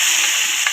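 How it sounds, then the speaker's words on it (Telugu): Tempering spices fry hot in oil for amaranth leaf lentil dal, a short burst of bright, steady close-up sizzling. "పప్పు తాలింపు వేసేసుకున్నాము."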